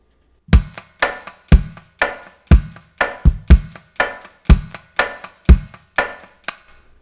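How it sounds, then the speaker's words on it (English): A drum track with hi-hat, a noise gate and reverb, played as a steady beat of about a dozen punchy hits. Each hit is cut off sharply by the gate, leaving a short roomy tail. "And all the drums together will sound like this."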